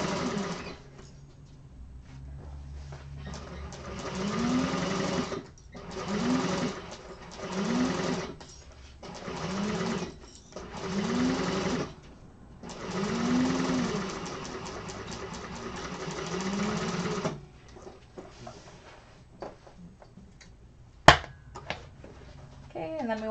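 A sewing machine top-stitches along a seam in a class setting, running in repeated short bursts with brief stops between them, close and clear, followed by quieter handling sounds and a sharp click.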